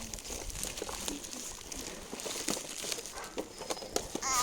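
Plastic shopping bags rustle and crinkle in a home kitchen, a quiet, close, irregular crumpling with soft scattered crackles and no clear talk.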